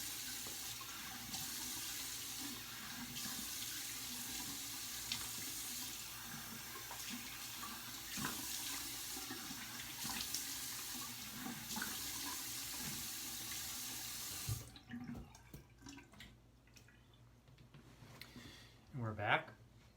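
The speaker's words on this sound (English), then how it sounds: "So I'm going to rinse my face off with warm water, cold water" Tap water runs steadily from a sink faucet while a face is rinsed after a straight razor shave, a close continuous splash that stops partway through, followed by quieter handling sounds.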